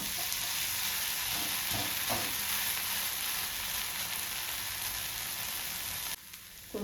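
Mung bean dosa (pesarattu) made from sprouted green gram sizzles and fries steadily in oil on a hot pan, a continuous close crackling hiss that dips briefly near the end.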